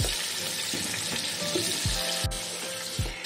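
Potato pieces fry in oil in a pan in a village kitchen, giving a continuous close sizzle with a few soft low knocks from the utensil.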